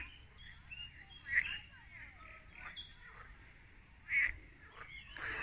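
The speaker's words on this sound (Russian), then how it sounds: "О, лягушки начинают свой концерт вечерний." Frogs croak by a lake in the evening, two louder throaty calls standing out among faint scattered croaks in a quiet outdoor setting.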